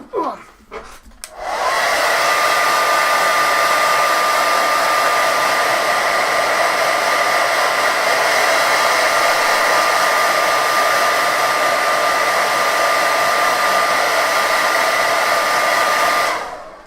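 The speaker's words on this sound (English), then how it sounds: "let me blast this with a hairdryer" A hairdryer blasts at a Warhammer miniature, kicking on after a brief clatter and roaring loud and steady with a constant whine for about fifteen seconds before cutting off, with no talk over it.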